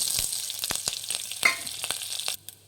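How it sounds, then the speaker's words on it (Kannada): Mustard seeds, dried chillies and curry leaves tempering in hot oil for tomato rasam, a steady crackling sizzle with sharp pops and spits scattered throughout, close and moderately loud, no voices. "ಎಣ್ಣೆ ಕಾಯ್ದಿದೆ, ಸಾಸಿವೆ ಹಾಕ್ಕೊಳ್ಳಿ, ಮೆಣಸಿನ್ಕಾಯಿ ಹಾಕ್ಕೊಳ್ಳಿ, ಕರ್ಬೇವಿನ ಸೊಪ್ಪು, ಹಿಂಗು ಮತ್ತು ಅರಿಶಿನ ಹಾಕ್ಕೊಳ್ಳಿ."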